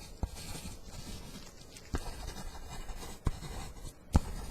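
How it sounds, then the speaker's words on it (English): A pen scratches across paper in a quiet room, a steady soft scribble with a few sharper taps as strokes begin, close and intimate with no voice over it. "let me just write that"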